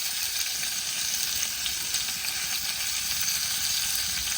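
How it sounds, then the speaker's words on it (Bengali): Pieces of pointed gourd (potol) fry in oil in a pan with salt and turmeric, giving a steady, close, bright sizzle with faint crackles throughout and no voices. "এবার পটল ভালো করে ভেজে নেব।"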